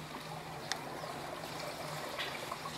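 Water leaks and trickles steadily in a rural farm kitchen while coconut candy is being made, a continuous close wet hiss with a few faint clinks over a low hum.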